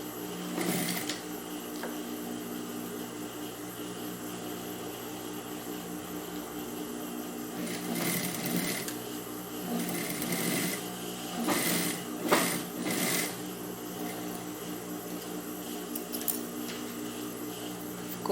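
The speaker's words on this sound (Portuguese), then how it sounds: "vou passar a costurazinha rebatendo" A sewing machine topstitches the folded edge of a pocket on a children's pajama, giving a quiet mechanical whir and buzz in short bursts against a soft steady hum, with no speech.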